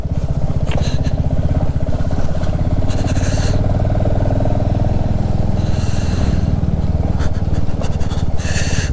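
Hero Xtreme 125R motorcycle engine droning steadily and loud while riding along a slippery mountain road toward Manikaran near Manali, continuous low rumble with brief hissing bursts of passing wind or tyre noise.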